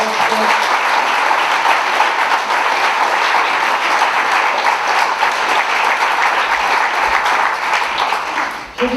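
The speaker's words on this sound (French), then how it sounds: "Je pense qu'il faut les applaudir." A crowd at a Relay for Life 2018 press conference gives loud, sustained applause, a dense, unbroken wash of clapping that lasts about nine seconds before tapering at the end.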